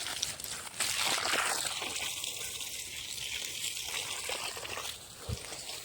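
Irrigation water runs steadily along a channel to a mango tree on a farm, a soft continuous trickle and gush close by with no talk.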